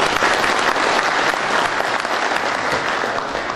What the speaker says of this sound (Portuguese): Molim aplauz.